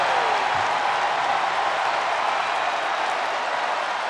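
A wrestling-arena crowd in the WWE2K24 video game: a dense, continuous roar of cheering and applause, steady and loud throughout with no pauses.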